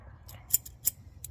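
A specialty disconnect tool for Jeep WJ 4.0 engine lines is opened with a scissor action, giving two or three sharp, crisp metallic snips close to the microphone against near silence.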